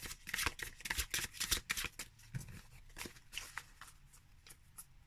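A matte-finish deck of playing cards being shuffled, quick crisp riffling bursts close up, busy at first then tapering into lighter flicks, with no talk.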